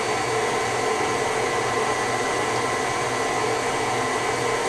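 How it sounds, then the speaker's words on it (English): Stand mixer on high speed beating sugar cookie dough, a constant loud motor whir and hum that holds steady throughout, close, with no talking. "you can go ahead and crank it up to high"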